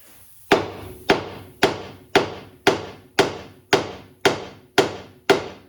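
Ten evenly spaced, loud metallic hammer blows strike a Honda Accord's steering knuckle to free the tie rod and ball joint, each sharp hit ringing briefly before the next, with no talking.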